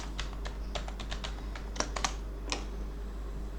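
Password being typed on a computer keyboard to log into SQL Workbench: a quick, irregular run of close key clicks over a low steady hum, with a few sharper taps near the end.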